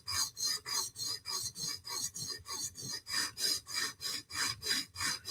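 A blade sharpened on a sharpening stone, steady rhythmic rasping strokes back and forth, about three per second, close and even.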